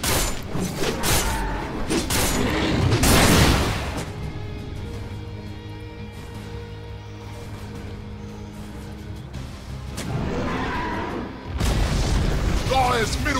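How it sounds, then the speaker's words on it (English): A tower being destroyed in the Dota 2 video game: loud booming crashes at the start, then a sustained low rumble and ringing, with another burst of heavy impacts near the end. "Tower has fallen."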